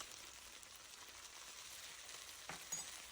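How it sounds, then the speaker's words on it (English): Garlic, ginger and fermented black beans stir-fry in a wok with a steady, quiet crackling sizzle, plus a couple of faint scrapes of stirring near the end. "continue to stir fry"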